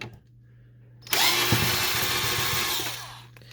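An electric screwdriver backs out Phillips head screws from the top cover of an Epson Stylus Photo R280 printer. After a quiet low hum, a loud, steady whirring run lasts about two seconds, then cuts off.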